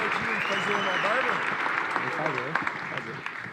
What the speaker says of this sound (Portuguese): Uma salva de palmas para o Matheus.